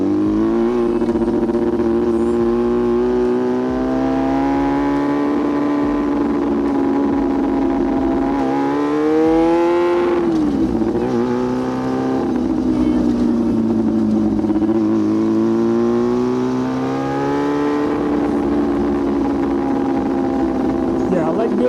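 Yamaha R6 sport motorcycle ridden hard, its loud engine note rising and falling through repeated revs and gear changes, close and continuous with wind roar throughout.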